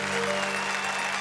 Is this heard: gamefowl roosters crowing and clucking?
no